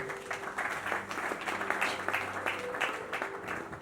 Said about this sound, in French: Sous vos acclamations toujours.